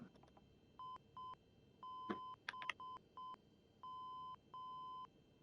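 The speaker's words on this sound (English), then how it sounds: "Beep, beep. Long beep. Beep, beep, beep. Beep, beep. So that's telling us that we are on IBER." ILS navigation radio Morse identifier from the nav 1 receiver in Microsoft Flight Simulator, general aviation, heard as steady tone beeps in short and long groups, a dot-dash pattern repeating alone over faint background hiss.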